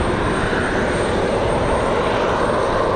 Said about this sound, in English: Hopefully that one leaving is the one with the APU on, making all the noise.